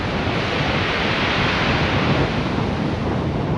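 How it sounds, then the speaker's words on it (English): Steady, roaring surf of powerful waves crashes continuously on a pebble beach, dense and loud, with wind noise mixed in and no breaks. "it's a fantastic sound as all of these really powerful waves come in."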